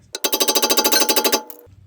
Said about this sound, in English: I'm just gonna wail on it a little bit with a hammer